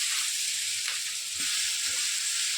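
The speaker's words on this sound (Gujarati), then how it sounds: "હવે આપણી ડુંગળી અને ટમેટા સતળાઈ ગયા છે તમે જોઈ શકો છો એકદમ ગ્રેવી જેવા થઈ ગયા છે" Onion and tomato masala for a South Indian masala dosa filling sizzles steadily in a pan, a constant bright hiss with a few soft stirring knocks, close and alone without talk.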